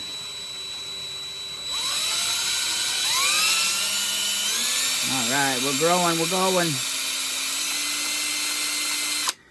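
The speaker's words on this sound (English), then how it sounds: "See if we can get a nice small little pilot hole going." An electric drill bores a small pilot hole during a Honda CL350 motorcycle restoration, its whine rising and holding with pitch shifts as the bit bites, while someone talks over it.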